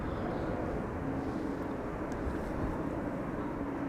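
An Air France airliner in from Paris Charles de Gaulle lands at Amsterdam Schiphol on a windy morning, its engines a steady broad roar with wind-blown rumble throughout and no voices.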